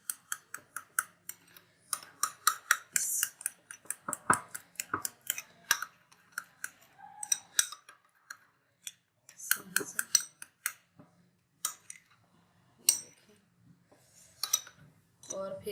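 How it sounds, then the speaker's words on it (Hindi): Zinger burger sauce of tomato ketchup being mixed in a bowl, with a spoon clicking and scraping in quick irregular bursts, close by, broken by short pauses and some talking. "और इसे अच्छे से मिक्स कर लेंगे, इसकी सॉस बना लेंगे"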